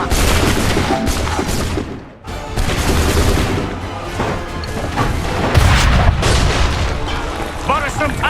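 Gunfire and cannon shots in Assassin's Creed III during a battle against redcoats: dense, loud volleys of musket fire and booming cannon blasts roll on almost continuously, with a brief dip before the barrage resumes.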